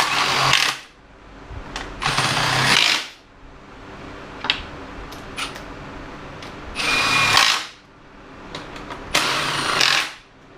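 Valve cover bolts on a 2.4-litre Chrysler PT Cruiser being tightened with a power tool, four loud close whirring bursts separated by quieter gaps with faint clicks and tool handling.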